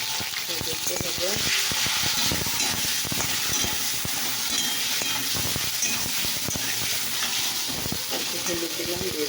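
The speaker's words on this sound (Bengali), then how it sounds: "হলুদ দিলাম, দিয়ে ভাজছি।" Spices and turmeric sizzle steadily in a hot pan, a dense continuous crackle with scattered sharp pops and scraping, while a voice talks over it.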